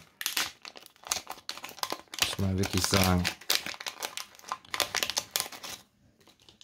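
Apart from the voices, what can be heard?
crinkling plastic bags of Lego parts being opened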